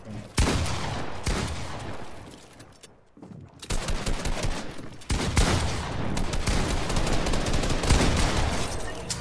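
Dense rapid gunfire from a video game rattles in loud bursts, breaks off for a moment, then returns as a steady barrage.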